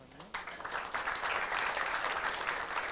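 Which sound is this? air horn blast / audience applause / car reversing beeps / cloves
audience applause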